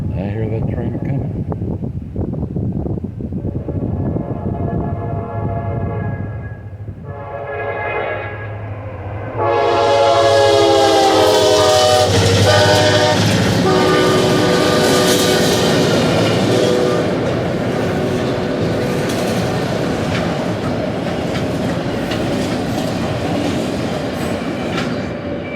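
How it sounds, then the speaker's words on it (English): A single CSX locomotive running long hood forward with auto racks approaches, its deep engine rumble building before a loud, sustained multi-tone horn blast, then the heavy rolling rumble of the passing train continues close by. "I hear that train coming."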